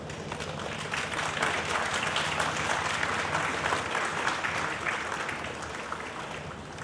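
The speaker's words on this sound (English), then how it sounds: "can I have a big round of applause for Mr. Januda and Mr. Arunachal" An audience at a filmmakers' event applauds, a dense crowd of clapping that holds steady and loud for several seconds before easing slightly.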